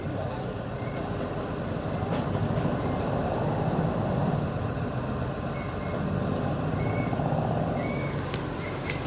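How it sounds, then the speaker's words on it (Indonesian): A dump truck reverses near an excavator at a river-dredging site, its engine rumbling steadily under a repeating, thin reversing beep, while someone talks over the machinery. "terlihat di depan eskavator mobil dump truck pun manuver untuk mundur"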